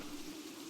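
Faint, even rainfall hisses steadily in the background, with a low hum running underneath.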